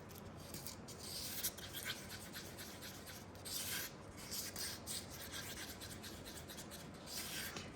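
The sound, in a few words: scraping sides and bottom while mixing two-part resin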